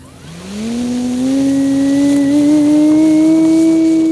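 Electric motor of an E-flite Pilatus PC-21 RC model airplane spooling up for takeoff from a rough grass field, a loud rising whine that climbs quickly in pitch and then holds a steady high tone.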